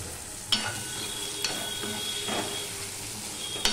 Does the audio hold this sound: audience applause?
no